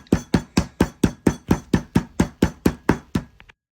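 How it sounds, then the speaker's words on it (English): A beef mallet pounds meat sealed in a Ziploc bag, flattening it to about half an inch: a steady, rapid run of about fourteen loud, close thuds, then two lighter taps. "get our beef mallet out, and just start beating our meat"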